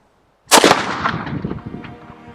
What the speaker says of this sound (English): all we have to do is touch the linstock to this and the cannon will discharge